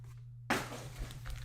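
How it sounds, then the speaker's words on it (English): Foil packs of Topps Chrome Mandalorian trading cards are shuffled together by hand, giving a sudden, close burst of papery rustling that lasts about a second over a low steady hum. "mixing up the packs. Shuffle, shuffle, shuffle, and we're mixing up the packs"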